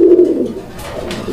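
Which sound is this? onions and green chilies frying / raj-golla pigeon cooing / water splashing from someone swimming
raj-golla pigeon cooing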